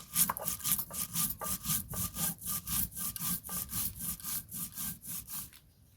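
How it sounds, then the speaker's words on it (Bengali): Mustard seeds and cumin ground together into a paste for village-style home cooking, heard as a close, steady run of rhythmic rubbing strokes, roughly two or three per second, with no talking. "এখন আমি সর্ষে জিরে একসাথে বেটে নেব।"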